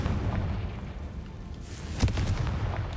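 Confringo, the explosive fire spell from Hogwarts Legacy, goes off as a steady, rumbling blast with a sharper burst of impact about two-thirds of the way through, dense and loud throughout.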